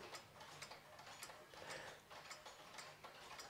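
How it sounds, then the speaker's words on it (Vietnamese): An antique French-imported Jura pendulum clock ticks quietly and evenly, a steady run of soft, regular mechanical ticks heard alone. "Tích tắc rất là đều."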